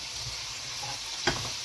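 Onions frying in bacon grease, a steady close sizzle lasting under two seconds with one brief utensil scrape or clink near the end.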